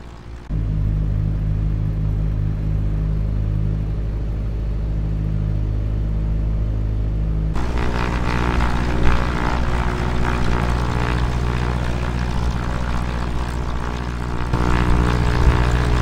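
A propeller aircraft drones steadily in a flight simulator video game, a continuous loud engine rumble that jumps to a brighter, fuller roar partway through as the view changes, with no talking.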